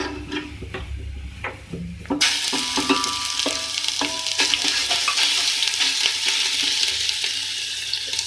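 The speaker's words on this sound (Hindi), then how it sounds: "मिक्स करेंगे, इसको फ्राई करेंगे" A sharp, loud sizzle of ginger garlic paste hitting hot oil bursts in after a quieter start, followed by continuous frying with scraping stirring sounds, while cooking beef biryani.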